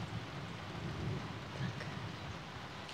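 Rain falls as a faint, steady hiss with soft low rumbles from a strong thunderstorm far away in the Warmia countryside, with no voices.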